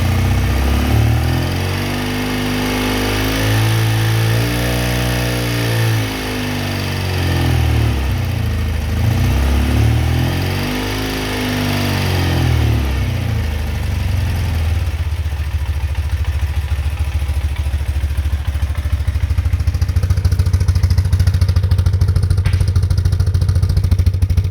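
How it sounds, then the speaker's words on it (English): An air-cooled BMW boxer airhead motorcycle fitted with an Australian-made ignition idles close and loud, its rhythmic thrum wavering in pitch before settling into a steadier, slightly faster beat. "now that the engine's started and had a second or 2 to warm up"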